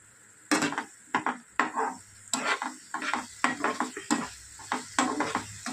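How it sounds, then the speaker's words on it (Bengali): Thick masala with garam masala powder and a splash of water stirred and fried in a pan, a steady run of close spatula scrapes and knocks over a soft sizzle. "এবার এটা খুব ভালো করে কষিয়ে নেব"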